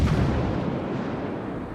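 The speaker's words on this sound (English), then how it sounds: "That British armor piercing shooting at the superstructure, and he's starting to rack up penetrations here." Rumbling, low boom of British armor-piercing naval shells being fired in World of Warships, one broad heavy blast at the start that decays into a sustained rumble with no voices.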